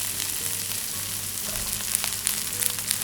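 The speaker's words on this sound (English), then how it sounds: "lightly sauté the carrots first to bring out their natural sweetness" Carrots, corn and green peas sautéing in oil in a pan give a steady, moderate sizzle with faint crackles, close by and without talk.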